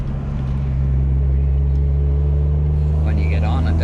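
A car engine drones loudly with a steady low hum, rising slightly as throttle is applied partway through, heard from inside or close by with background road rumble.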